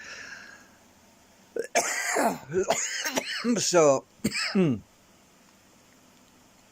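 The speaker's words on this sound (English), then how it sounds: "if you're wondering why I'm coughing so much" A burst of repeated harsh, throaty coughs in quick succession, close and loud, followed by a rasping throat clear, with a brief word spoken.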